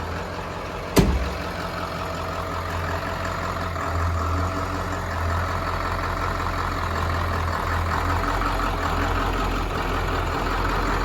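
A 1996 Ford F250 Crew Cab short-bed truck with a Powerstroke diesel engine idles steadily with a low, continuous rumble after a brief sharp click near the start, with no voices.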